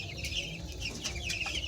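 Poultry chickens in a flock of around a hundred birds clucking steadily at close range, with repeated short calls and no talk.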